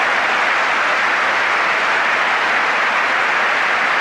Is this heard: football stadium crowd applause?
yes